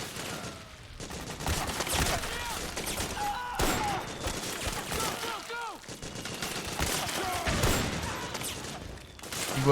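Loud, dense gunfire from the video game Metal Gear Solid 4, with rapid bursts and sustained volleys running nearly continuously alongside busy in-game effects.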